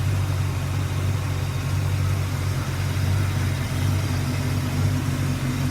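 A 1971 Buick Skylark Custom coupe with its original Buick 350 V8 and four-barrel carburetor idles steadily, a deep, even low rumble held close and loud throughout with no talk.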